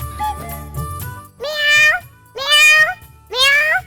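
Three drawn-out meows come at regular intervals in a domestic comedy scene, each clear and fairly close. Quieter background noise fills the gaps between them.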